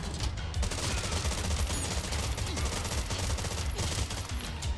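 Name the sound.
gunfire in the video game Terminator 2D No Fate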